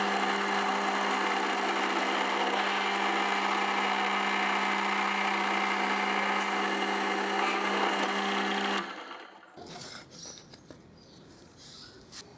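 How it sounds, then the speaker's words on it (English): A drill press motor whines steadily while drilling into wood with a backing plate for several seconds, then stops abruptly, leaving faint quiet rustling afterward. "Drill into a backing plate to avoid tear out"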